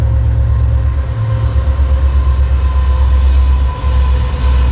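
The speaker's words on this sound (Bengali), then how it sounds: "ট্রেন যাচ্ছে, প্রচণ্ড পরিমাণে নয়েজ হচ্ছে।" A train passes close by near Farakka, a loud continuous rumble and rattle of rail wagons with steady wheel noise throughout.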